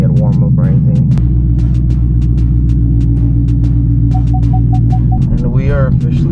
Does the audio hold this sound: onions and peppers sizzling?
no